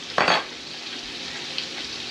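A small whisk scrapes and stirs through hot pork chop drippings in a frying pan, with a brief louder swish at the start followed by a steady, close sizzle.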